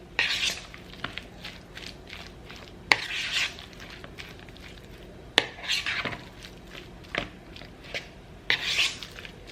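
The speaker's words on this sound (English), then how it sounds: "Just keep stirring." Buffalo wing sauce being stirred in a pan, with close scraping and rasping strokes of a utensil against the metal and a few sharp clinks spaced through.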